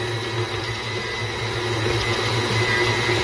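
A stand mixer kneading crostini dough with a dough hook, a steady motor whir with a low rhythmic hum, close and continuous, with no talk.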